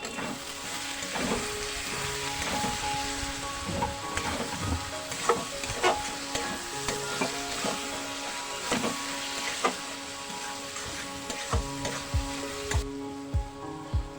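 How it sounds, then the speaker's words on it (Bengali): Small shrimp fry and get stirred in a pan, with a steady sizzle throughout and a run of irregular scraping and tapping stir strokes. It is close up, with no talking. "এটাকেও আমি ভালো করে মিশিয়ে এটাকে ঢেকে ঢেকে ভেজে নেব"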